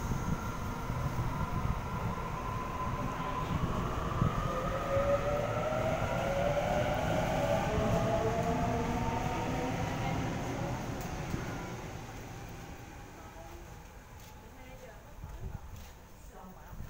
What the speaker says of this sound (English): departing platform number 2, we have Waratah Set A4 for a Lakemba Bankstown service